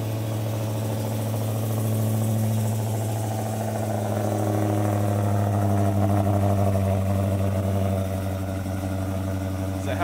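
Deep, steady idle of a 2017 Dodge Hellcat V8 running close by, a continuous low rumble with slight swells and a faint rise near the end, alone without speech.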